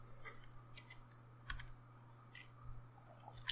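Faint, sparse clicks come from typing on a computer keyboard while coding a beginner Xcode Swift app. The scattered keystrokes sit over a steady low electrical hum.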